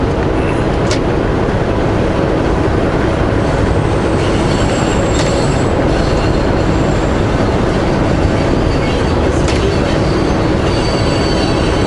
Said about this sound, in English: I'm sorry the train is blocking the view of the river